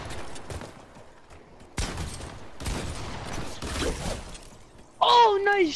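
Rapid dual-pistol gunfire in a slide-mode solo-duos shooter game comes in dense bursts of sharp cracks, with a brief excited voice and a rising whine near the end.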